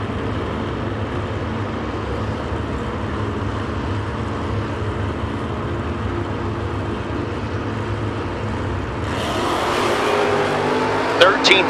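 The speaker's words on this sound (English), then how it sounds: "Aaron's 67 Camaro against Chris Cassidy's Monte Carlo." Drag race with a 1967 Camaro against a Monte Carlo: a distant engine roar over crowd and announcer chatter swells sharply near the end as the cars launch and pass.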